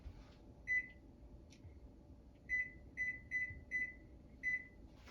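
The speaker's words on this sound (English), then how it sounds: "let me set my timer really quick" A kitchen timer being set gives a series of sharp electronic beeps: one beep, a pause, then about five quick beeps in an uneven row, clear and close above a low room hum.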